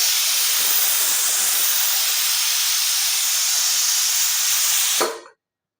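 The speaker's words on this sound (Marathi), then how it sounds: "स्वयंपाकाचा कुकर पण चालला आहे माझा" A household pressure cooker on the stove in a home kitchen lets off a loud, steady jet of steam, hissing continuously for about five seconds before cutting off abruptly, with no talking.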